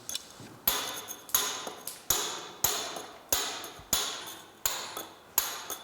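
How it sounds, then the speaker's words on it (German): Steady hammer blows drive a point chisel into a stone block, roughing off the boss: about nine sharp, ringing metallic strikes at an even rhythm, each with a bright ping and a short decay, close by with no talk. "Als nächstes wird mit dem Spitzeisen der sogenannte Bossen abgespitzt"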